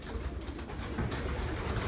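Pigeons coo in a loft, a close continuous murmur of low, rolling calls from several birds at once.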